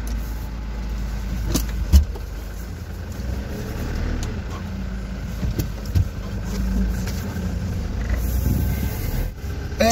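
Hyundai H100 2012 van on the move, diesel engine humming steadily from inside the cab with road rumble, a few bumps and rattles, and a brief rise in engine note near the end.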